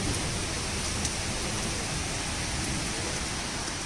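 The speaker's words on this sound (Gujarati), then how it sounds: "જો બહાર કેટલો મસ્ત વરસાદ આવે છે, અને એટલી ગરમી થતી હતી ને, એમાં તો કડાકા ભડાકા વાળો જો વરસાદ" Steady, heavy rain hissing and pattering outside, a dense continuous wash of sound with no voices; no distinct thunder rumble stands out.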